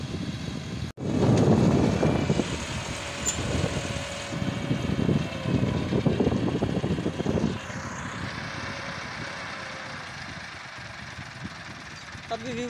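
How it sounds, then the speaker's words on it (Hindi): A 2010 Massey Ferguson 385 tractor towing a jack trolley strains in deep sand, its engine a loud, rough, steady drone that eases to a lower hum, with wind buffeting the microphone. "ये ट्रैक्टर ऊपर आ ही नहीं था"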